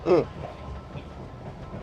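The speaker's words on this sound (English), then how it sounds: "This is my first ever train ride." Steady low rumble of a train running on rails at Swanage, with a brief louder burst near the start and constant rolling noise throughout.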